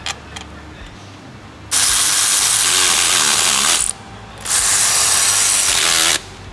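Power tool tightening 16 mm bolts on a 2007 Volkswagen Rabbit transmission, two loud sustained bursts of about two seconds each with a short pause between, close up with workshop quiet before and after.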